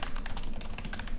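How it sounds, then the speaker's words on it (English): Fingers type quickly on a computer keyboard up close, a rapid, uneven run of light key clicks at a moderate level with no talking. "We can go ahead and type that in."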